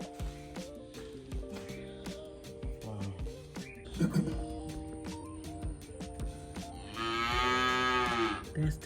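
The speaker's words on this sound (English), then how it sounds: "That's the cow, guys." A young calf of about one year moos at a house in Samoa, giving a long, loud low call near the end over steady background music.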